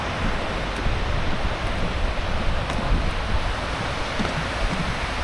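Ocean surf breaks steadily on the beach where the border wall runs into the sea at Tijuana, a continuous broadband wash with wind buffeting the microphone and no voices.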